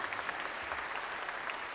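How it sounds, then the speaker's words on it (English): An audience at an outdoor concert claps steadily, a dense wash of applause at moderate distance with no voices over it. "one more big round of applause"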